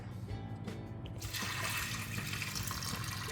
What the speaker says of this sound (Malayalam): 1 കപ്പ് വെള്ളമാണ് ഞാൻ ഒഴിച്ചത്.